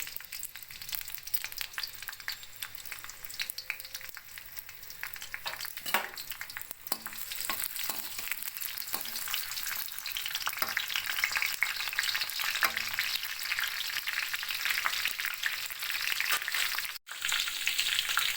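Green chillies and curry leaves frying in oil for tomato rice, with a continuous close sizzle and crackle that grows a little louder midway and stays steady. Occasional stirring taps and one brief dropout near the end.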